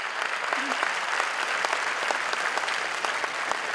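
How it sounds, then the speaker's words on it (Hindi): An audience claps steadily and densely for a stage show, sustained applause filling the whole stretch at an even level. "इसके लिए जोरदार तालियां हो जाए।"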